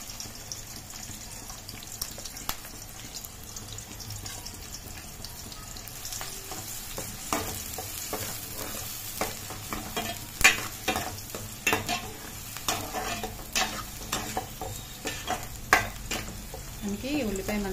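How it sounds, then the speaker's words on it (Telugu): Sliced onion and two split green chillies frying in about four spoons of hot oil for chicken fry, a continuous sizzle with scattered sharp crackles and stirring scrapes growing busier toward the end. "1 ఉల్లిపాయ, 2 పచ్చిమిర్చి చీల్చి వేస్తున్నామండి"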